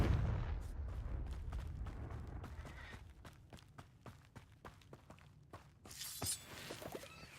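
A Confringo blast spell in Hogwarts Legacy, a run of sharp cracking impacts in an irregular rhythm, fairly faint, ending in a brighter bursting flare near the close.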